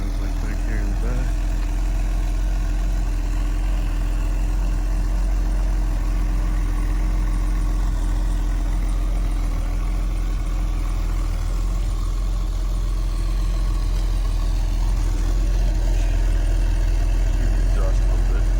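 A Mercedes 280SE idles after a cold start, its engine and exhaust giving a steady low rumble close by for the whole stretch, with a person talking over it at times.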